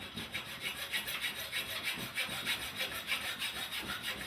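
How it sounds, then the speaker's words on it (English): A hand saw cuts through the overlong metal bolts of new leveling feet, a close, steady back-and-forth rasp of about a dozen even strokes with no talking. "we're cutting these new leveling feet that we purchased, but the bolts on the end are just way too long"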